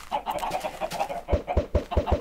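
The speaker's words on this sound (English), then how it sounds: "Let's get some chickens." Minecraft chickens cluck in the video game. Short, quick clucks repeat in a steady patter, and sharp low thuds join in toward the end.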